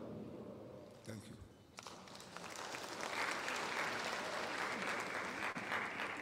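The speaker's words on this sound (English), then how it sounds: "Can you give yourself bigger applause?" An audience applauds at an induction ceremony for newly qualified physician assistants in Ghana, starting as quieter scattered clapping, then swelling into a steady, full round of applause.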